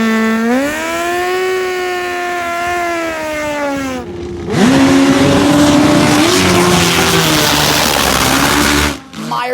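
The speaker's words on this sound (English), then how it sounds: "This is a NITROUS Pro mod." A nitrous Pro Mod drag racing motorcycle launches at a drag strip, its engine holding a loud, steady pitched drone before a harsh roaring surge of acceleration, close and powerful, with an announcer's voice faintly under the noise.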